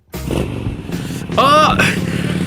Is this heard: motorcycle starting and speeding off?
yes